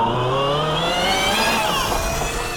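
A home-built hypercar accelerating hard from 0 to 60 mph, its engine note climbing steeply through the gears, loud and close, with no voices.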